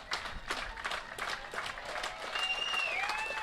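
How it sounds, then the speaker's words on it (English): Crowd applauding at a South Cardiff versus Edgeworth NPL football match, steady broadband clapping throughout with crowd noise and a whistle-like tone near the end. "And everyone giving a big clap off the ground, Brodie Taylor"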